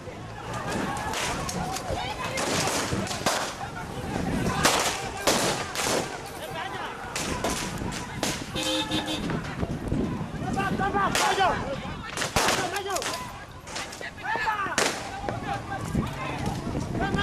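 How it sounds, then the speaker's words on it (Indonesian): Repeated sharp police warning shots fired into the air crack through a loud, chaotic outdoor protest in Papua, Indonesia, mixed with shouting crowd noise and commotion throughout. "Polisi membubarkan massa dengan mengeluarkan tembakan ke udara"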